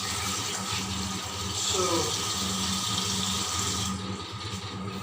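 Water running and splashing steadily as small sabudana sago beads are rinsed and drained in a kitchen sink, continuous and fairly close, with a brief spoken word over it.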